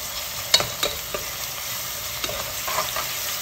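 Garlic, bell pepper and hot pepper sizzle in a frying pan while a spoon stirs them, bringing steady close frying hiss and a few sharp scraping clicks against the pan.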